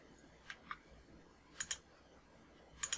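A computer mouse gives quiet, close clicks in a still room, several pairs of quick taps that fit double-clicks spread across a few seconds, with no speech.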